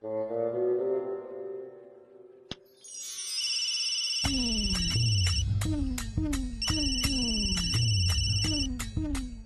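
A telephone ringtone plays in a repeating electronic melody after a soft musical passage and a single click, with a loud, steady pattern of tones that continues through the rest of the clip.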